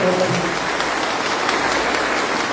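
A Mass congregation applauds steadily throughout, a dense, even wash of many hands clapping at close range. A voice is briefly audible near the start.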